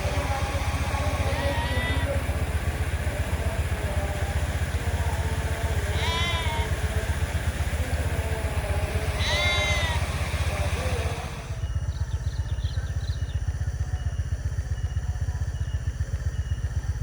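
Goat bleats, three wavering cries spaced a few seconds apart, heard over a low steady engine rumble and busy street noise.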